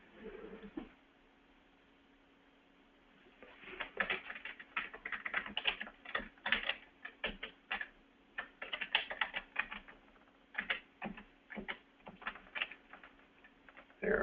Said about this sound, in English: if I can learn how to type correctly